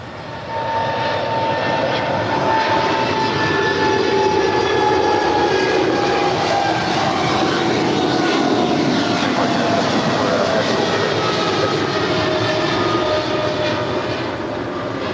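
FedEx 3901 Heavy, a large cargo jet, departing LAX: a loud, steady jet-engine roar with shifting whine holds for the whole stretch, swelling in and easing slightly at the end, with no voices.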